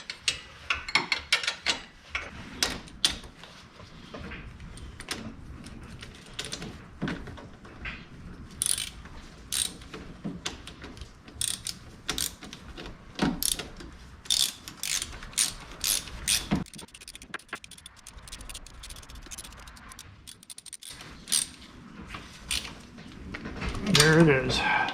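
A socket ratchet clicks in intermittent bursts while a wheel bearing hub bolt is tightened on a Subaru Outback, close and under occasional talking.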